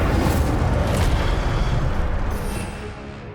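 Incendio fire spell cast in the video game Hogwarts Legacy, a dense, roaring blast of flame that sustains loudly for a few seconds, then tapers off without any speech over it.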